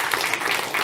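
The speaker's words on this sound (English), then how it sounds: "Round of applause for Mr. Juppe, please." An audience at a Nordics and Baltics startup pitch competition breaks into brief applause, with dense clapping that sounds moderately close and lasts under a second, without talking over it.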